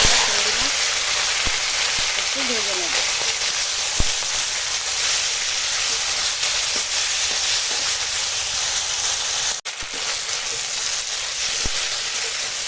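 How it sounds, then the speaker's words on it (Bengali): Prawns coated in salt and turmeric fry in hot oil in a wok, giving a steady, close sizzling hiss across the whole stretch with a few faint clicks and pops. "এখন চিংড়ি মাছে নুন হলুদ দিয়ে নেবো এখন দেখো কড়া বসি দিয়েছি আর কড়াই দিয়ে দিয়েছি তেল"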